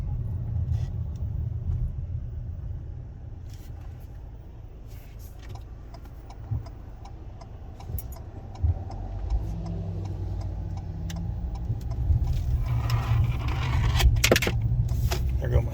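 A 2022 Ford Maverick pickup cruises at about 45 mph and then brakes normally to a stop, heard from inside the cab as a steady low road and engine rumble with a few faint clicks and knocks.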